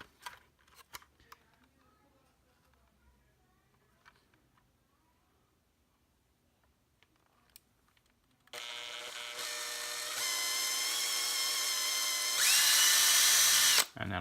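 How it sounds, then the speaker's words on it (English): A few faint taps and handling sounds, then a power drill with a dull bit whirs loudly and steadily, rising in pitch as it runs to the end. "I'm going to get my other drill index to get an actual sharp drill bit"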